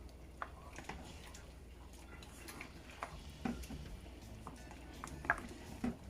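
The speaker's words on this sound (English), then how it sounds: "just give the pot a little stir" A spoon stirs a pot of Jamaican red peas soup, giving faint, sparse scrapes and soft clinks against the pot over a low, quiet background.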